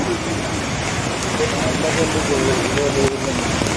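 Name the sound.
heavy rain falling during landslide flooding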